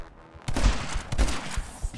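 Shotgun blasts in My Friend Pedro: two heavy, booming shots about three quarters of a second apart, each with a broad crack and low thump, followed by a fainter third hit amid game ambience.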